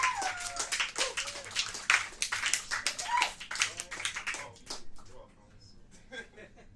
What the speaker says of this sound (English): Give a round of applause to him, because without him, there's no performance.